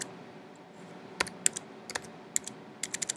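Separate clicks of Tab and Enter pressed on a computer keyboard, sharp and close, scattered irregularly over a quiet background with a quick cluster toward the end.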